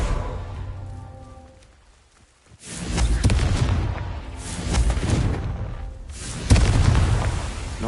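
Fiery Confringo blast spells burst repeatedly in the Hogwarts Legacy video game, three heavy booming explosions with rumbling low-end roars that swell and decay, the last hitting hardest, following a brief near-silent gap.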